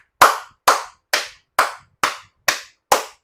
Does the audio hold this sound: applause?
yes